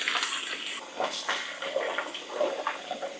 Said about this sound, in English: So I'm gonna turn on the cold water, and I'm just gonna rinse it directly in the bag.